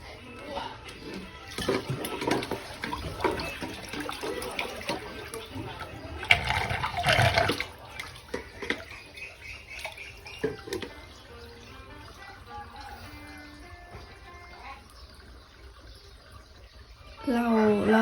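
Water is poured and splashes during a water change for snakehead fry, a rushing, gurgling flow that swells loudest in the middle and fades, with someone speaking over parts of it.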